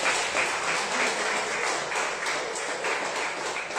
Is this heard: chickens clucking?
no